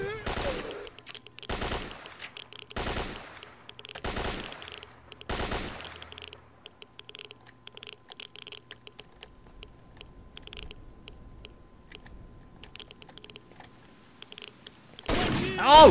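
Gunfire in the video game STALKER comes as several separate bursts of automatic fire in the first six seconds, then near quiet, then another loud burst at the end, with faint speech between.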